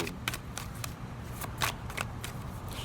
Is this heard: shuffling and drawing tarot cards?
yes